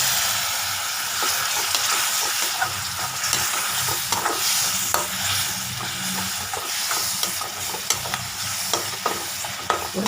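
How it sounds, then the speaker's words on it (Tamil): Potato fry with chili powder stirred in a pan, steady close sizzling and hissing with frequent scraping stirs throughout, no voices. "உருளைக்கிழங்கு இந்த மாதிரி பண்ணி பாருங்கள்."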